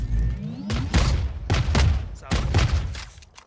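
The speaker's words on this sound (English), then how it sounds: "All missiles away." Missiles launched in a 2v2 video game match, heard as a string of sharp whooshing blasts in quick succession, loud and close, with a voice talking faintly underneath.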